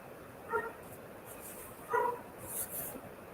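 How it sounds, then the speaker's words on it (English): Dogs at home give two short, faint yips in the distance, well apart, against a quiet room. "The dogs are saying hi."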